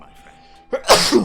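A Final Fantasy XIV cutscene character lets out a single sharp sneeze with a short breathy lead-in, loud and close, following a brief spoken phrase.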